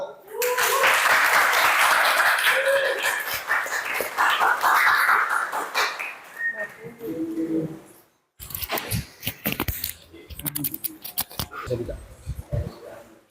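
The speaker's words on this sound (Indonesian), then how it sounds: "Tepuk tangan." Classroom applause for a history teacher, Bapak Amsirudin, at an Indonesian school: dense clapping for about six seconds, then a short break and a sparser, uneven patter of claps with light voices underneath.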